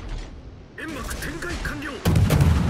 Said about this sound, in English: I'm going to throw some torpedoes out there because it looks like he's turning in.